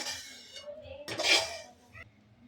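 Roasted semolina for upma is scooped from a metal pan, heard as a few close scrapes and clinks of a spoon against the pan, with a sharper scrape in the middle.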